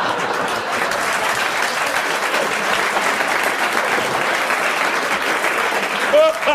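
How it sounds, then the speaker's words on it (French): Steady, dense applause from a television studio audience on a 1992 French talk show, a full crowd clapping continuously at close range with a faint voice or whistle near the end. "t'applaudis."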